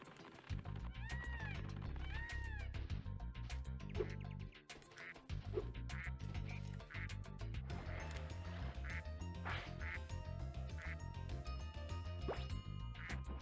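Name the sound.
duck quacking in the video game Spyro 2: Ripto's Rage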